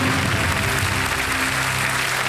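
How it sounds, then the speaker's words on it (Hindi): A studio audience on the Kaun Banega Crorepati game show bursts into loud, dense applause that fills the whole moment with a continuous clatter of clapping. "तालियां बज जाए जोरों से"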